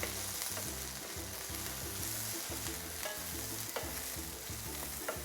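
Peeled, chopped pirandai (veldt grape) stems frying with curry leaves in a pan, a steady loud sizzle broken by the scrape and clatter of a spoon stirring repeatedly, with no talking.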